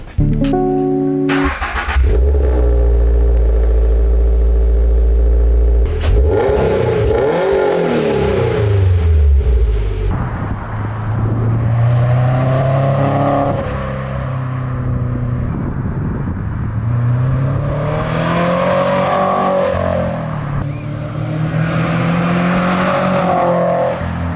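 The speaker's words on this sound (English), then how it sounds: "Here's a little clip of a startup and some revving." A Subaru BRZ or Toyota GR86 with UEL headers fitted cranks and starts, then revs repeatedly, boxer rumble climbing and dropping in pitch, loud and close with a rough idle between revs.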